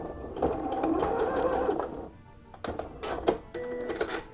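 A sewing machine stitches a short seam on fabric, a steady close mechanical whirring burst lasting about a second and a half, followed by a pause and a few shorter clicking runs of the machine.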